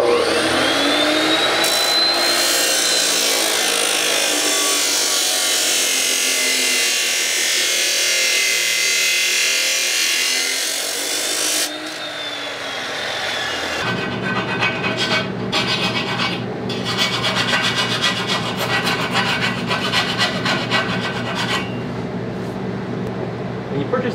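A saw cuts through a steel piece for a dueling tree target, giving a loud, steady rasping grind that runs continuously for about twelve seconds, then shifts to a rougher, harsher cutting tone for the rest.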